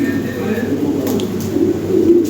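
Pigeons coo softly in a low, steady murmur from a group kept for sale, including blue-barred birds, with someone talking over them throughout.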